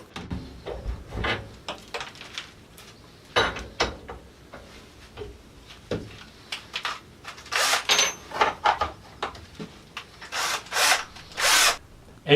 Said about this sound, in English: so I'm going to drill my own holes.